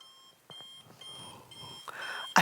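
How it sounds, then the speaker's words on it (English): An alarm clock rings in a thin, high electronic beeping pattern that repeats in short bursts, fairly quiet and alone, ending with a sharper louder burst. "Your alarm goes off"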